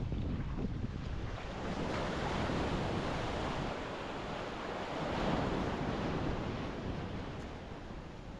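Ocean surf rolls and breaks continuously on Ayia Napa beach, a sandy shore sheltered by stone breakwaters on both sides, with steady broadband wash and gusts of wind buffeting the microphone throughout.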